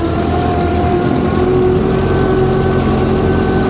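A 1929 Ford AA tow truck engine idles steadily and close by, a continuous low mechanical drone with a rattling texture throughout, with no talking.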